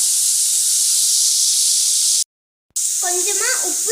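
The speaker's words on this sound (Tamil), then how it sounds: "ஒரு பாத்திரத்தில் எண்ணெய் ஊற்றி வெங்காயத்தை வடச்சட்டியில் போட்டுக்கலாம்." Loud, steady sizzling hiss of onion and carrot frying in oil in a pan, cut by a brief silence before resuming, with a voice speaking over the frying at the end.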